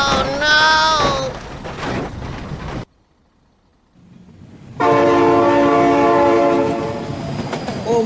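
A train in the BeamNG driving game blasts its horn, cuts off into a brief near-silence, then returns with a loud sustained horn and rumbling wheels passing close.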